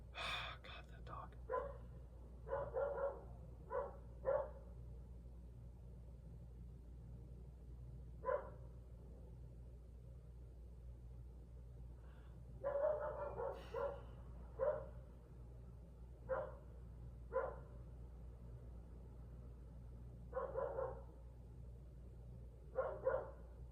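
A dog barks repeatedly in the distance, single and clustered barks scattered irregularly across a steady low hum, with soft speech in between.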